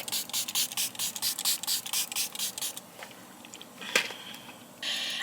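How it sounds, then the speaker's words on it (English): A skin care spray gives a short, sharp hiss near the end, after a run of rhythmic rubbing or shaking strokes and a single clack. "this spray, let me spray some right now"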